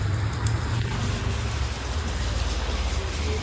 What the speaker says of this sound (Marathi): पाऊस पडायला लागला ना भाई